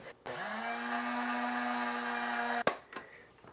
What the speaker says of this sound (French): je vais mettre mon érythritol granulé dans le moulin à café